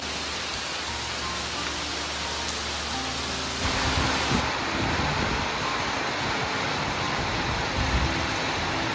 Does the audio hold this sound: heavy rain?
yes